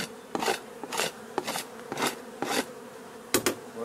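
Honey bees at an open hive during a frame inspection, their buzzing rising in repeated bursts as frames are scraped and handled, fairly close and steady with no talk.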